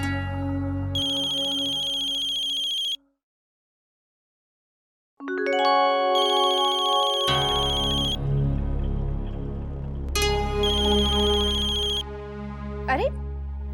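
A phone ringtone plays in repeated melodic bursts, with a short silent gap partway through, and continues under a music backdrop with chiming tones.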